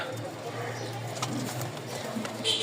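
Red and maxi pigeons cooing nearby, soft repeated coos against faint background noise.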